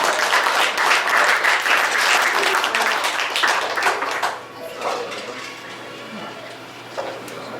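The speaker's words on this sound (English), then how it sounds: "Give a big round of applause, everybody." A crowd at the Crystal Palace Saloon in Ogallala, Nebraska gives a big round of applause: strong, steady clapping for about four seconds, then it tapers off into scattered claps with murmuring voices.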